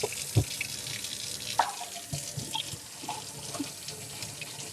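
A nail brush scrubs a stencil under a running tap in a sink, steady faucet water hiss with intermittent brushing knocks and splashes, close and continuous, no talking.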